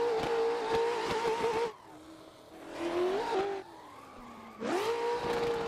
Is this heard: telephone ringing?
no